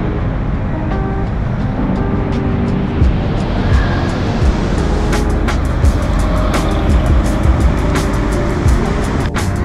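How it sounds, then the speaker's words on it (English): Dense main-road traffic in Bangkok forms a steady, loud wash of engine rumble and tyre noise from passing vehicles close by, with no one speaking. "That's the main drag right there with all the traffic."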